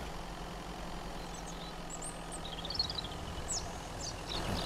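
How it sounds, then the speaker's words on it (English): Car engine idling in the survival game Mist Survival, a steady low rumble held evenly from start to finish at moderate level, with faint high chirps above it and no talking. "Turn engine off, save that fuel."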